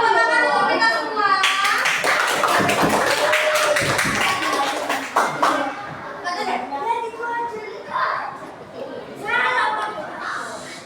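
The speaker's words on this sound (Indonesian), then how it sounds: "Baik, tepuk tangan untuk kita semua." Children in a classroom clap together in a burst of applause lasting a few seconds, mixed with a teacher's voice and kids' chatter that continues after the clapping fades.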